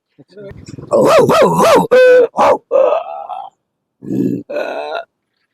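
A voice imitates a village stray dog barking, with a string of loud, gruff woofs and growly yelps in uneven bursts separated by short pauses.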